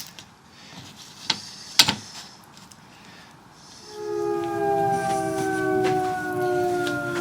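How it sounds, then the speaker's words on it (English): A few sharp clicks and knocks in a woodworking shop give way to a long, steady air raid siren wail that slowly winds down in pitch, sustained and moderately loud in the distance. "It sounds like an air raid siren. It's just winding down now."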